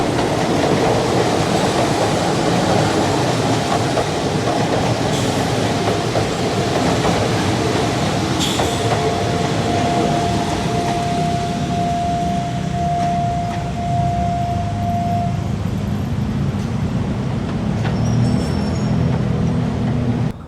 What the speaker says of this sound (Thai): มาแล้ว 282 GEA 4556ทำขบวนมาครับ เข้าที่หยุดรถพญาไทแล้ว